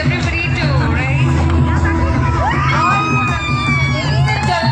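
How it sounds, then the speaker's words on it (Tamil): An award ceremony audience cheers and whoops during a standing ovation, a loud continuous roar of shouts and high-pitched yells over crowd babble. "ஒரு மிகப்பெரிய கைத்தட்டல். எல்லாரும் ஸ்டாண்டிங் ஓவேஷன் கொடுக்கணும் அப்படின்றது ஆசை."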